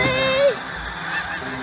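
Geese honk in a scene from the low-budget Troma horror film Redneck Zombies, one clear rising-then-falling call up front over a steady background bed, followed by fainter fowl sounds.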